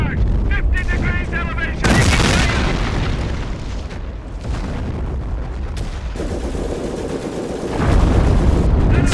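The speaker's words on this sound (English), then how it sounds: "Right! Rapid fire barrage!" Artillery barrage in the Company of Heroes strategy game set in a D-Day 1944 battle, with loud booming blasts and gunfire bursts rolling through the mix under a game voice, strongest near the start and end.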